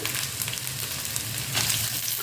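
Ingredients fry in hot oil in a pan, giving a steady, close sizzling crackle throughout with no talking.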